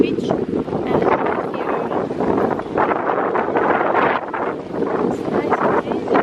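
Strong gusty wind buffets the microphone on Nantasket Beach in a loud, continuous roar that rises and falls, with a person talking underneath.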